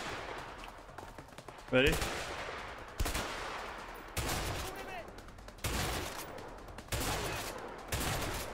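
Loud gunshots in the video game A Way Out crack out one at a time at roughly one-second intervals, each sharp and close, while a player speaks briefly.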